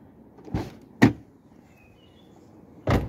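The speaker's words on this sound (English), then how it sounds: "Driver door is opening." Subaru Outback car doors working, with three sharp clunks from latches and handles spaced about a second or two apart against quiet background.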